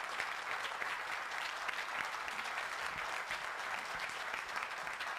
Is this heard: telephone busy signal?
no